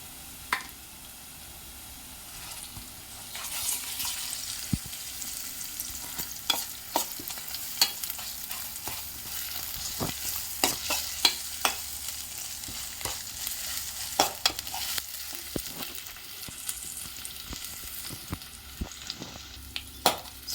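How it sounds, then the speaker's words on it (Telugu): Onions fry with ginger garlic paste and turmeric for a brinjal curry, a soft continuous sizzle broken by frequent sharp spoon clicks and scrapes against the pan, close and with nobody talking. "అల్లం వెల్లుల్లి కొంచెం ఫ్రై అయ్యాక కాస్త పసుపు వేసుకున్నాం"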